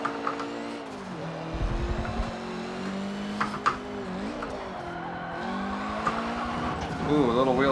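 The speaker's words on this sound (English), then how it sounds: "Ooh, a little wheel spin there." Tires spinning briefly on a turbocharged car on the Nordschleife in Forza Motorsport 7, a short scrubbing squeal over a steady engine drone, with someone talking over it.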